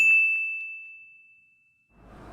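A single bright notification bell ding rings out clearly and sustains as a steady pure tone before fading, followed by a faint rustle at the end.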